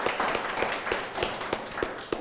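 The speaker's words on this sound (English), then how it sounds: "We're going to give a round of applause for those of us who read from the junior." A small audience gives a round of applause for junior short story readers at a library writing event: a steady, fairly even patter of hand claps that carries on without any talking.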